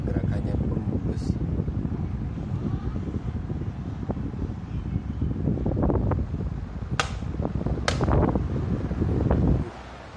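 Repaired electric fan switched on at its lowest speed, its airy whir running under a person talking, with a few sharp clicks before it stops abruptly.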